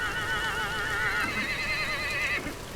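Horses in the Vintage Story video game whinny with a high, wavering neigh lasting a couple of seconds, clear and fairly close over a soft background.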